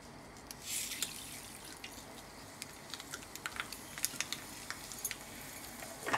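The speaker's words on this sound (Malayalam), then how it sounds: "വെളിച്ചെണ്ണ ഒഴിച്ചിട്ടുണ്ട്. ഇനി കടുക്, ഉലുവ, വറ്റൽമുളക്, കരുവേപ്പില എന്നിവ ഇടുന്നതായിരിക്കും." Mustard seeds splutter in hot coconut oil, making a soft, sizzling background with scattered sharp pops and crackles that grow more frequent toward the end.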